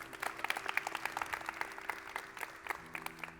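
A short burst of clapping from a small audience at a magic show, quiet and somewhat sparse with individual claps distinct, lasting a few seconds over a low hum.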